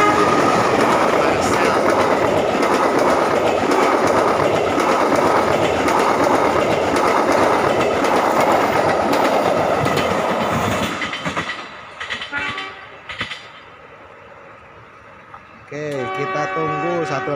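A local passenger train runs loudly past the crossing at Gedebage station in Indonesia, a steady heavy rumble with clattering wheels for about eleven seconds before fading, followed by a brief horn-like tone near the end.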